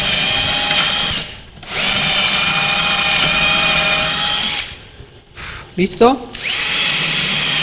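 A power drill fitted with a 5 mm bit bores a hole for a drawer pull in a bedside table, running loud and steady in several bursts with brief pauses. A short spoken question comes in one of the gaps.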